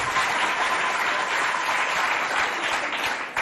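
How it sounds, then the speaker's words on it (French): Students at a school competition between colleges in Doba clap together in a sustained, even burst of applause lasting a few seconds, broad and fairly loud with no talk over it. "applaudissez pour vous"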